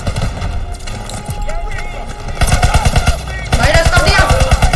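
Rapid automatic gunfire from a Call of Duty match rattles in fast, loud bursts, growing denser toward the end, with voices chattering underneath.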